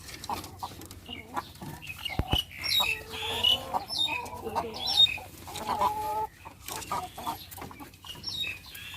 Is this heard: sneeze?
no